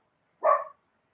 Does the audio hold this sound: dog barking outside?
yes